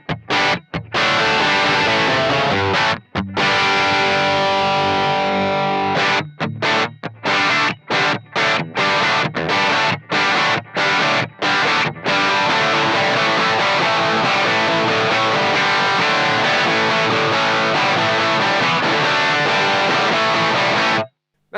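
An electric guitar through a Marshall JMP-1 preamp on OD1 overdrive with bass shift plays heavy distorted riffs, with a burst of choppy staccato chugs before settling into sustained crunchy chords.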